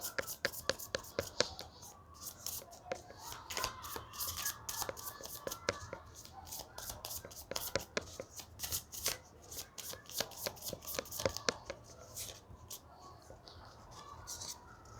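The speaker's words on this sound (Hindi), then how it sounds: "सबसे पहले मैं करियर के लिए कार्ड्स निकालूंगी।" Tarot cards being shuffled by hand in quick bursts of crisp riffling and snapping, close and fairly loud, repeating in irregular rhythm for the whole stretch with no talking.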